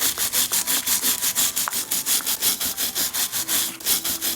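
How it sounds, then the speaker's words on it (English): A brass wire brush scrubs hard against the metal of a G.M. Angem Regula 25 with toothpaste as a mild abrasive, close and loud, in quick even back-and-forth strokes about four per second. "rubbing relatively heavily with the brass brush"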